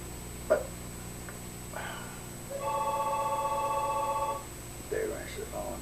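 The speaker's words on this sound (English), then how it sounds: "there went the phone." A telephone bell rings once in a quiet indoor room, a sustained electronic tone lasting nearly two seconds, with brief speech before and after.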